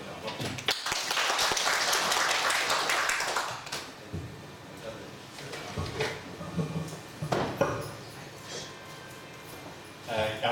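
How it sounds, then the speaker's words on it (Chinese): An audience at a lecture hall in the Fanjingshan National Nature Reserve, Guizhou, applauds to welcome the lecturer. The dense clapping lasts a few seconds and then fades into scattered handling noises, thumps and a voice speaking. "下面我们用热烈的掌声欢迎赖老师跟我们讲座"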